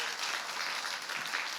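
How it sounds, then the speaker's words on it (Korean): An audience at a youth science-communication contest in Seongnam claps steadily throughout, a dense, even patter of many hands. "우리 다 같이 박수 치고 시작하면 어떨까 생각이 됩니다"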